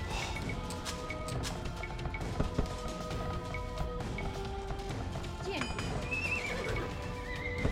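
Horses neigh and whinny in Age of Empires 2 HD on the Black Forest map, several sharp whinnies rising over a busy battle bed of clip-clopping hooves and occasional crashes and impacts.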